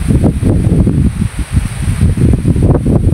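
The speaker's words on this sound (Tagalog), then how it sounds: "Lakas ng ulan. Saka ng hangin." Strong wind roars steadily across the microphone on a farm with a dense rushing wash, gusting louder and softer throughout; heavy rain blends into the constant noise.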